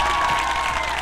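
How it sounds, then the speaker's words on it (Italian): A studio audience claps in a brief, dense burst with a steady tone running through it, the crowd loud and close. "Tutti questi applausi"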